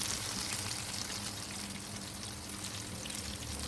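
Small basaria fish frying in hot oil, a steady dense crackling sizzle that holds at an even level throughout with no voices.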